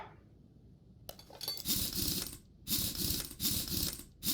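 Brake lathe being set up in Car Mechanic Simulator 2021: after a quiet start, a few bursts of clicking, ratcheting metal clatter arrive in short spurts, fairly close and distinct.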